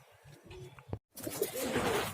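Pigeons coo softly near a handler who is checking and plugging their damaged wing feathers before a tournament, low murmuring calls broken by a short silent gap, then louder rustling and cooing.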